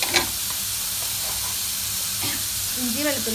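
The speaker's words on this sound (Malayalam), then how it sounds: "അപ്പോൾ പിന്നെ നമ്മൾ ഈ സവാള ഒന്ന് നന്നായിട്ട് വഴറ്റിയെടുക്കണം" Onions, green chilies and curry leaves sauté in a pan, making an even, continuous sizzle and hiss with occasional stirring scrapes; a faint voice-like tone surfaces near the end.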